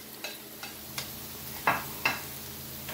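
Ackee and saltfish ingredients with garlic sautéing in a pan: a soft, steady sizzle broken by a few quiet scrapes and taps of a stirring utensil, with no talking.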